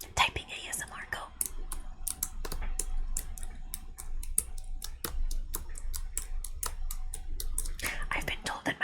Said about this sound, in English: Typing ASMR, go.